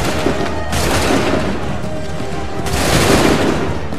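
Musket volleys in the Assassin's Creed 3 video game crack out in two loud, dense bursts of massed gunfire, each trailing into rumbling echoes and battlefield noise.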